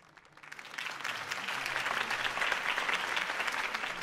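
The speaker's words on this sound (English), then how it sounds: "could have heard that applause" Crowd applause greets the end of Harvey Dent's campaign speech in Batman: The Telltale Series, swelling in over the first half second and then holding as a dense, steady roar of clapping with no voices.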